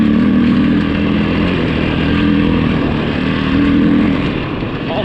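A 2008 Yamaha WR450F dirt bike engine running steadily up close, a loud continuous buzzing drone that swells slightly in a couple of places without any clear revving.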